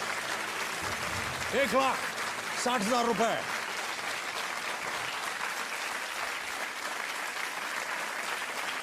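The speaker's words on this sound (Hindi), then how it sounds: "तालियां बजती रहनी चाहिए देवी और सज्जनों।" Sustained applause from a quiz show studio audience on Kaun Banega Crorepati, filling the whole stretch at steady level while a voice briefly speaks over it near the start.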